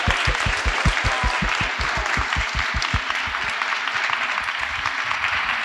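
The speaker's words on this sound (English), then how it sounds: "One more round of applause." Sustained applause from a lecture-hall audience at a First Amendment speaker series event, dense clapping at steady loudness throughout, with a deep rhythmic thumping in the first half.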